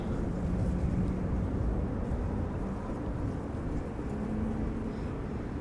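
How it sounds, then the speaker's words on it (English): Air turbulence trailing airplanes at Amsterdam Schiphol Airport, heard as a steady, distant low rumbling roar that holds throughout without any talk. "turbulence that follows the airplanes."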